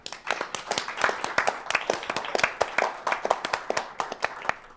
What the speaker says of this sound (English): please join me, first of all, in a round of applause for Hossein and for Dana.